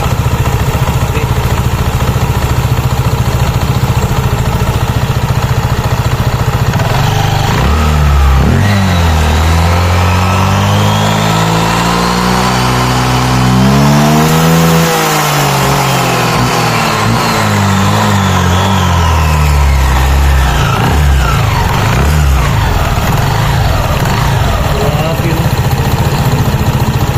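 Honda PCX 160 scooter engine with a modified CVT pulley set revs up loudly, rising in pitch to a peak and then falling back, close and continuous throughout.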